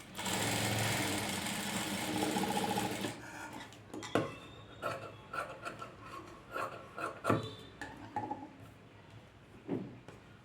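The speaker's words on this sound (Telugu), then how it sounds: "మొత్తం ఒక స్టిచ్ వేసేసుకోండి." A sewing machine stitches fabric while making tassels, running in a steady dense whir for about three seconds, then falling into short, uneven bursts and rubbing sounds.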